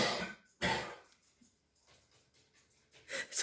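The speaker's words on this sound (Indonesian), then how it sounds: "Itu tadi yang batuk-batuk, dehem-dehem suami saya." A man coughs and clears his throat at home, with a loud burst near the start, a short cough in the middle and another rough burst at the end, separated by quiet room noise.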